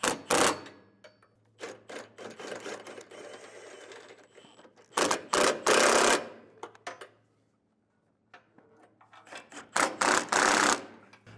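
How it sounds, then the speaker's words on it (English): A 19 mm socket wrench snugs down trailer hitch bolts on a 2022 Ford Bronco, giving bursts of rapid ratcheting clicks separated by pauses, close and fairly loud. "Now we can go ahead and grab a 19 millimeter and we're gonna go ahead and snug these down."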